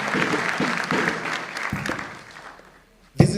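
Audience at the opening ceremony of the second National Tax Symposium at Kisii University breaks into steady applause that swells and fades out, then a sharp louder burst of clapping and noise ends the stretch.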